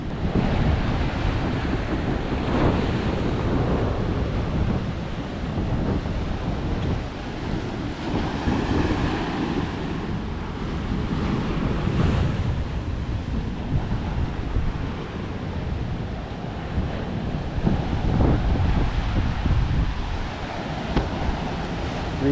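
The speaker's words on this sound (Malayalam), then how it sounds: "കടൽ അതിഭയങ്കരമായിട്ട് കയറിക്കൊണ്ടിരിക്കുക" Sea waves surge heavily onto an eroding coastline where houses have collapsed, a continuous roaring wash with repeated swells and strong wind buffeting the microphone, and no voices.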